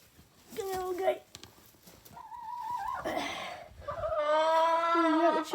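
Backyard chickens being raised at home give a few drawn-out calls and clucks close by, mixed with a person talking softly to them.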